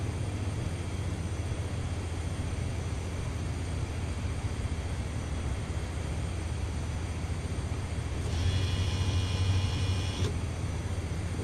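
A Cessna 208 turboprop drones steadily under throttle in Flight Simulator X, a constant engine roar with a brief rise in pitch and intensity near the end, heard alone without talk.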